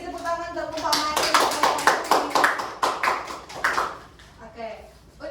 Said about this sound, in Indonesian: beri tepuk tangan untuk kelompok manik